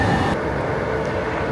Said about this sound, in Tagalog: Nandito kami ngayon sa LRT station sa PITX.